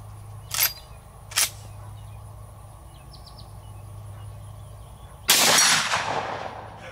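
A Big Horn Armory Model 89 lever-action rifle in 500 S&W Magnum fires outdoors, with two sharp, loud reports early on and a heavier blast near the end that rings out and slowly decays, with birdsong faint between shots.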